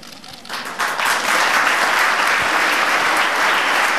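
Applause for Aníbal Velásquez Valdivia, newly sworn in as Peru's health minister, swells after a quieter first half-second into steady, dense clapping from a sizeable audience at a formal swearing-in ceremony.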